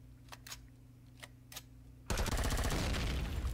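Weapon fire in the space survival game Empyrion: Galactic Survival, a few isolated cracks followed by a sudden loud, continuous rapid burst of automatic fire that runs to the end, with no voices.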